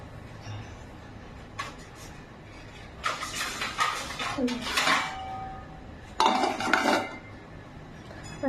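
A lid set over a pan of fish curry with green chillies in a home kitchen, bursts of metallic clatter and clinks of pot and lid, close, with quieter rustling between.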